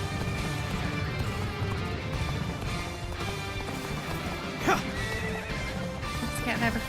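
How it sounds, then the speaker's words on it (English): Horse neighing and hooves galloping in Dynasty Warriors: Origins, a Three Kingdoms battle game, with a steady clatter of hoofbeats under busy game sound and a couple of whinnies rising out near the end. "Faster, faster, horsey."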